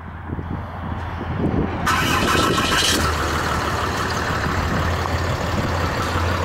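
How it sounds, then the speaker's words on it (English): A 2013 Dodge Ram 3500 dually with a Cummins diesel fires up by remote start, a sudden loud catch settling into a steady, rumbling idle close by. "Simply hit lock and hit the remote start button twice."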